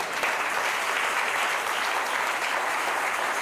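A church congregation claps together in steady, dense applause that stays loud from start to finish, with no speech over it.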